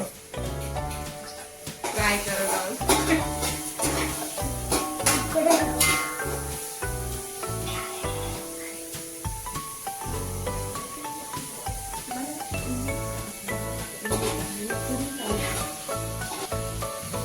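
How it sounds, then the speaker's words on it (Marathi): Onions frying in oil until golden brown for a crab curry, a steady sizzle with occasional stirring scrapes running under continuous background music throughout. "आता आपण पहिले तेल टाकून घेतलेलं आहे नंतर त्याच्यात आपण कांदा टाकलेला आहे आणि कांदा थोडा गोल्डन ब्राऊन होईपर्यंत"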